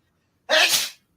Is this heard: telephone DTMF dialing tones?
no